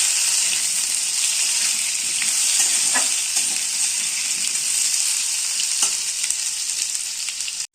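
Potatoes frying in oil in a pan for a potato curry, a loud, steady hiss of sizzling close up with a few faint stirring clicks, continuing unbroken before cutting off abruptly at the end.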